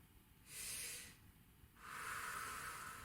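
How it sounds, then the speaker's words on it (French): Deep belly breaths taken during a singing exercise: a loud airy inhale, a pause, then a longer steady exhale, close and breathy with no talk. "4 bonnes respirations en bas du ventre."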